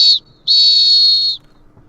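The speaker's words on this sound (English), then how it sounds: "that's a full-time whistle" A full-time whistle sounds as two loud, shrill blasts, a brief chirp followed by a steady held blast of about a second, with near silence in between and after.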